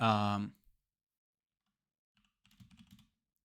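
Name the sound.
typing on a computer keyboard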